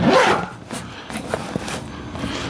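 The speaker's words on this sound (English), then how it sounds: "Got this long zipper" A long zipper drawn along a single-layer propane tank cover of canvas outside and rubber inside, a close, continuous rasping pull that fades into quieter handling scrapes.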